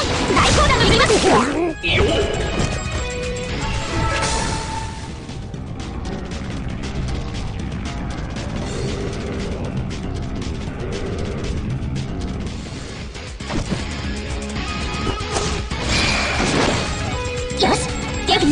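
Heavy cannon-shot crashing impacts and thuds from the video game Naruto Online, repeated over a busy mix of game sounds, loud and close.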